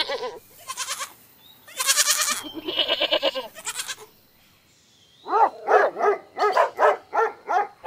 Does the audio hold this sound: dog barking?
yes